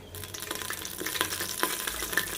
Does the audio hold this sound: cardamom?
yes